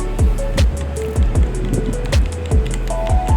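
Coffee powder, sugar and egg white paste being mixed by hand in a small bowl, with repeated wet squelching strokes and soft clicks of the utensil against the bowl in a steady rhythm, close and fairly loud.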